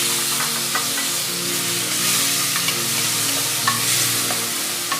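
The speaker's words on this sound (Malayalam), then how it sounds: "ചിക്കൻ പീസസ് അതിലോട്ട് ഇട്ട് നല്ലപോലെ ഒന്ന് വഴറ്റണം" Chicken pieces sautéed and stirred in a pan for an Arabic oats shorba soup, a loud, even sizzle with a low steady hum beneath and occasional light scraping taps of the spoon; no voices.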